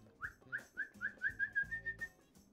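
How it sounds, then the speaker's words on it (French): A person whistles a quick series of rising notes, about ten short evenly spaced chirps, close and clear in a quiet room. "Je vais siffler, ça vous a pourri les oreilles."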